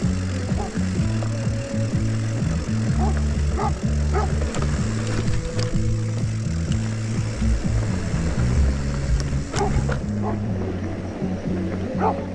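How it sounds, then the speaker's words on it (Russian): A guard dog barks repeatedly and loudly at close range, with fast, insistent woofs and yips over a low rumbling background outdoors on a Crimean roadside. "Ну, какая злая собака."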